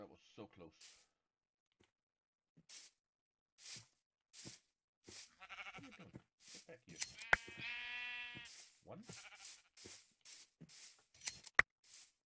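Sheep bleating in modded Minecraft: several short, bright game bleats scattered among quiet gaps, with a longer wavering bleat in the middle, loud and close, alongside a brief spoken word.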